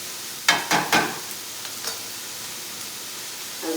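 Onion, green chili and ginger sauté in a pan for Indian dal, giving three short sizzling bursts early on, then quieter faint crackles and stirring sounds with no talk.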